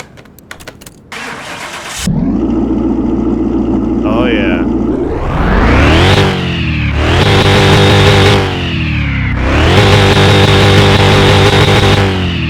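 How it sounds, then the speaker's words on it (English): A 2013 Ford Raptor pickup truck engine in a video game cranks and catches, then revs loudly in three rising surges, settling to idle between them; a voice speaks briefly near the start. "I'm gonna fire it up here in a second."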